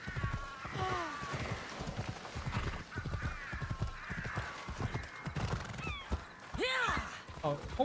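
Horse hooves clip-clop steadily through a game world in Assassin's Creed Odyssey, with several neighs and whinnies rising over the hoofbeats while a person talks throughout.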